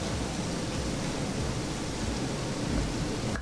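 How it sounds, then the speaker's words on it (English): Heavy rain pours steadily outside as a dense, unbroken hiss and rumble, constant in level for several seconds with no voices over it. "By the way, it is absolutely pouring outside"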